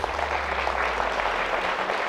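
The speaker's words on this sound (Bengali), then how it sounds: "এই শব্দ, এই এত হাততালির শব্দ প্রমাণ করছে" Loud, dense applause from a large audience at an annual school convocation, continuous and even across the whole moment, with a low hum beneath.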